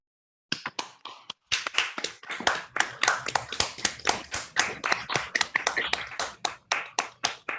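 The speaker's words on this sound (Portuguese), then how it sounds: "eu pediria uma nova salva de palmas aí para o François" Small audience applauding after a physics talk, a sparse handful of close, distinct hand claps starting abruptly and continuing irregularly, no voices.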